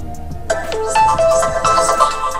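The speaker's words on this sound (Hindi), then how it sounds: "यहाँ फ्रेंड्स रिंगटोन में गया और आपको रिंगटोन सुना रहा हूँ" A bright electronic ringtone plays loudly and alone from an Oppo Reno 11 5G or Vivo V29 5G phone with dual stereo speakers, a melodic repeating tune starting after a short low hum.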